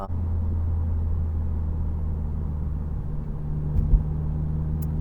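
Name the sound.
11th gen Honda Civic Si driving on city streets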